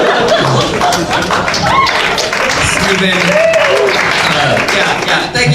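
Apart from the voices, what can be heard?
audience clapping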